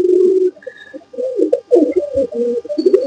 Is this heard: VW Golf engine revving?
no